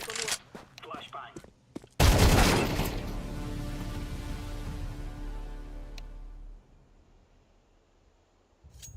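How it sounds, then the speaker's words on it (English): A flashbang grenade bursts in Counter-Strike 2 with a sharp, loud blast, and a bright, ringing wash trails off over several seconds. Brief gameplay clatter comes just before it. "Flashbang."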